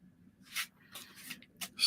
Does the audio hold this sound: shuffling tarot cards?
yes